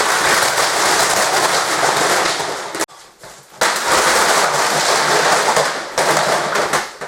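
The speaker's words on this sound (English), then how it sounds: "Did we really just see loads of VHSs going flying?" A pile of VHS tapes falls and crashes in a loud, dense clatter that runs for several seconds, breaks off briefly, then resumes in a second burst of rattling plastic.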